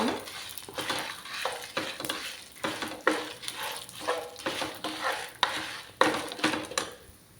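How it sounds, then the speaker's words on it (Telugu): Red chillies and moringa leaves dry-roast in a pan as a utensil scrapes and stirs them in repeated strokes, producing soft crackling between the louder scraping bursts. "రెడ్ చిల్లీ కూడా వేసేసుకోవాలండి. అన్నీ కలిసేలా మంచిగా వేయించుకోవాలి ఇవన్నీ"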